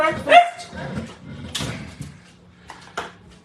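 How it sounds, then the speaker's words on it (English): A dog gives a few short barks and yips at close range, the bursts spaced irregularly with some whimpering between them and quiet gaps. "That's those few more little barks she likes to add in"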